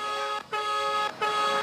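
A car horn (busina) sounds on a Filipino noontime TV variety set: a long, loud, steady honk cut by two brief gaps into three sustained blasts, with no talking over it.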